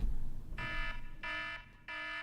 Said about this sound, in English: I do have the alarm.